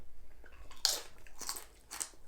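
Three sharp crunching bites into a crunchy restaurant side chip, close and loud, spaced about half a second apart and followed by soft chewing, with no talking.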